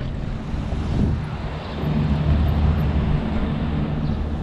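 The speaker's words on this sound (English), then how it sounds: "Cool little plane up there." A small airplane flies overhead above an industrial park. Its engine makes a steady drone that swells slightly partway through, continuous with no talking.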